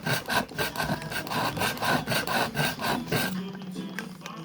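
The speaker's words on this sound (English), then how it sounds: "This is just a manual sharpener." A knife drawn repeatedly through a manual handheld sharpener, giving a steady series of rasping, scraping strokes in a quick rhythm, close and fairly loud, with the strokes easing off near the end.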